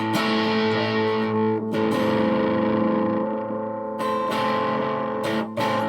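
Vintage Gibson SG electric guitar played with its pickups switched out of phase, giving a thin, hollow tone; sustained chords and notes ring loud and continuous with a few brief strums and changes, no voices.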